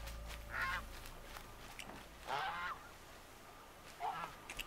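A goose honks three times in the video game Horizon Zero Dawn, short nasal calls spaced about every two seconds over quiet ambient game background.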